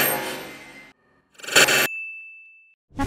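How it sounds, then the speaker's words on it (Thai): Tiny bell on a miniature desk toy rings with a bright, clear ding that rings out and fades, between short bursts of clattering and knocking, close and with no voices. "แล้วเสียงกิ้งมาได้ไงได้ยินกิ้งไหมคะ"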